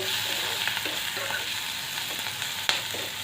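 Tomatoes with a pinch of chili powder being stirred in a pan for bread pulao, making a steady loud sizzle with light scraping and one sharp spoon clack near the end.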